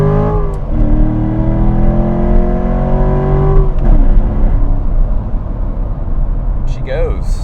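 A Corvette Z51 drops a gear and accelerates hard. The engine note climbs in a strong rising rev, then settles into a loud roar inside the car, and a voice speaks briefly near the end.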